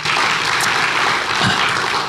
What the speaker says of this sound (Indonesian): Mari beri tepuk tangan yang meriah bagi Tuhan kita